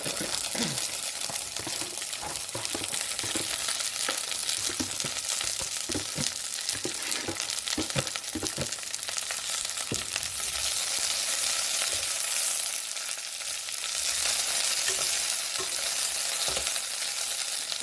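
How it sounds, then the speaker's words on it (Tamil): Cluster beans cook with fried onions in a pan, a steady loud sizzle of frying running throughout, broken by frequent scraping, clattering stirring strokes from a spatula, with no talking. "சேர்த்து இதில் இந்த கொத்தவரங்காயை ஆட் பண்ணுவோம்."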